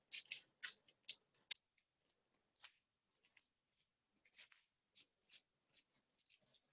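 Scissors snip through a traced baking paper liner for a cake mould, with a quick run of crisp cuts followed by sparser, fainter snips, close and quiet.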